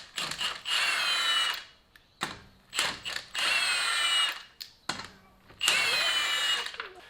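An impact or power tool spins lug nuts off the wheels of a 2011-2017 Ford Explorer during front brake work, sounding in three loud, sustained whirring bursts with short pauses between them and no talk.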